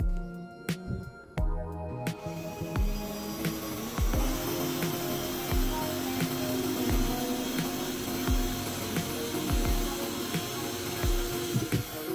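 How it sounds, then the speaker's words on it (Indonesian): DongCheng DCJZ1202i cordless drill boring a hole in wood with a 5 mm bit: a few short bursts as the drill starts, then a sustained whining drive, close and moderately loud, with no talk. "Dengan mata bor kayu 5 mm ini, saya buat lubang di kayunya"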